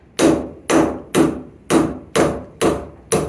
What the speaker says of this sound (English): So you just hammer it until it comes out.